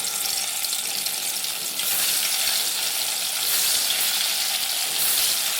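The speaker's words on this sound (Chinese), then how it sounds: "锅内倒油，放入豆腐煎制。" Tofu frying in hot oil in a wok, a steady loud sizzle and crackle that continues without a break and swells slightly partway through.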